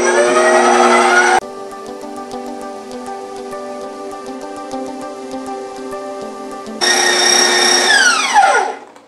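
An electric grinder chopping garlic whirs at a loud, steady pitch, then drops into a lower, rattling churn with rhythmic ticks, revs high again, and winds down at the end.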